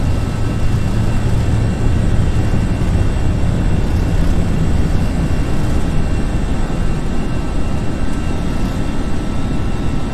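FSLabs A320 airliner on its takeoff roll in a flight simulator, a loud, steady, broadband jet engine roar with rumbling low end sustained throughout, close and without pause.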